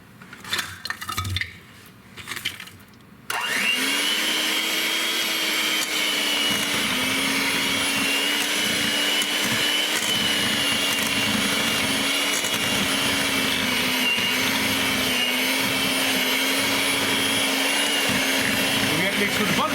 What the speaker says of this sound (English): now let's mix this up some more and get the butter mixed in here